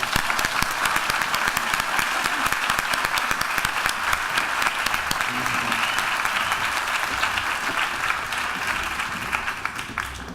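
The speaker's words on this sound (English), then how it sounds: "Please join me in a round of applause for Jill Furman and Perry Peltz." Audience applause, a steady sustained wash of many hands clapping at a formal event, loud and even throughout before slowly tapering at the end.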